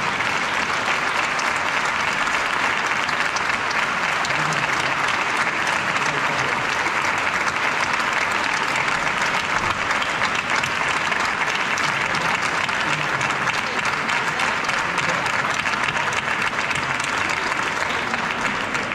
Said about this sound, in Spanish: le demos un aplauso a la hija de José María